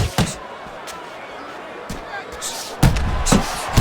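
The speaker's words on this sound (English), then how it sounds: "Scores with the uppercut." Punches land in a boxing bout, including an uppercut, heard as several sharp thuds spread unevenly through the clip, with heavier impacts near the end over a low crowd murmur.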